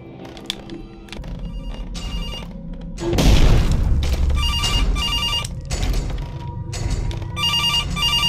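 A telephone rings repeatedly in an animatronics horror video game, bursts of ringing recurring across the clip with a deep boom partway through, amid tense ambient game sound.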